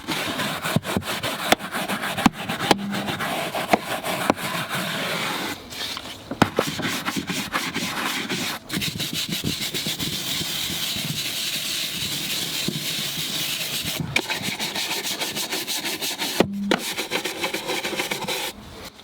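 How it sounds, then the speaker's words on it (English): A stiff Tough Shine tyre brush scrubs APC or upholstery cleaner into a car floor mat, a continuous close, rasping scrub with steady back-and-forth strokes and a couple of brief pauses, no talking. "apply a generous amount of APC or upholstery cleaner and agitate it into the mat with the Tough Shine tyre brush"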